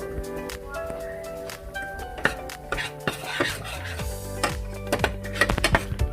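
A spoon stirring black pepper into a white sauce for chicken enchiladas, making irregular clinks and scrapes against the pan at close range, over a faint background of voices.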